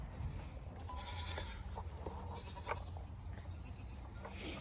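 Goats bleat a few times on a farm, faint and somewhat distant, over a low steady background rumble.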